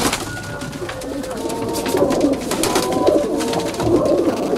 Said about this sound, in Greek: Και αυτά εδώ είναι τα περιστέρια, οι περιστερούκλες.